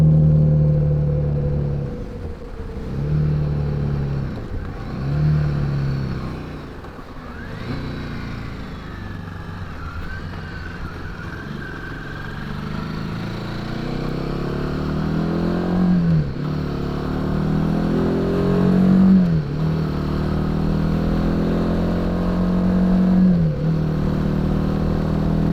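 Royal Enfield Himalayan 450 motorcycle riding on a breezy highway, a continuous engine drone with wind rush and several rising revs as it shifts through gears and accelerates, close and fairly loud throughout.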